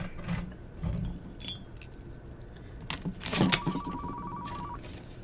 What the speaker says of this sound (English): Phone's like ringing in the back